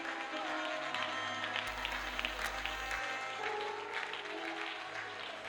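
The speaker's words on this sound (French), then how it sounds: "Acclame pour le roi des rois ce matin." A church congregation applauds and cheers in praise at a morning service, producing a dense, continuous roar of clapping that stays loud and even throughout, with a crowd murmur blended in.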